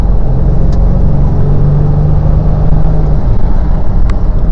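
A 1991 GMC Syclone pickup driven fast around a bend on a rural road, heard from inside as a loud, steady engine drone with heavy road and wind rumble throughout.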